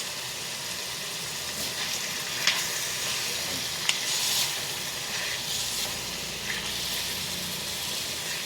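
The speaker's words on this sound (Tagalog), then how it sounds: "So haluin na natin ulit." Chop suey sizzles steadily in a hot pan while being stirred, a close, constant frying hiss broken by a few sharp clicks of the utensil against the pan.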